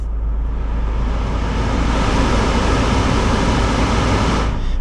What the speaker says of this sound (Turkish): maksimum klimayı en üst seviyede kullanırız ve klima şiddetimiz en yüksek seviyeye çıkacaktır